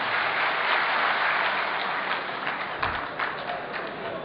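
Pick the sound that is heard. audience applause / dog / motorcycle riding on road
audience applause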